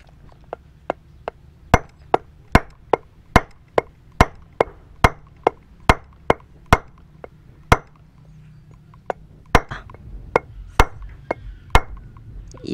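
A rubber mallet taps a torque drive bearing into place on a Honda Click scooter, about two dozen close, evenly spaced dull knocks, quieter at first and then firmer and steady.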